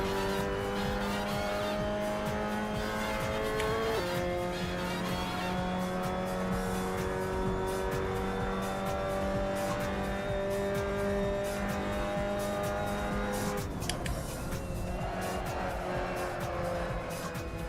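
Mazda MX-5 Cup race car at Silverstone in a VR racing sim, engine droning steadily with a shift around four seconds and tires scrubbing and squealing as the car slides sideways, continuous and close throughout.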